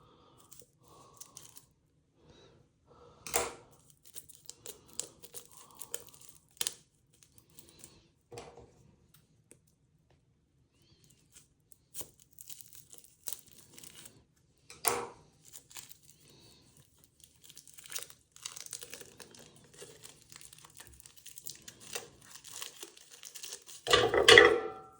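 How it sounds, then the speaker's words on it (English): Packets of cat grass seeds are snipped and torn open with scissors: sparse crinkling of paper or plastic and a few sharp cutting crunches, quiet with long pauses, ending in a louder rustle. "Let's see if I can get some scissors to open these up."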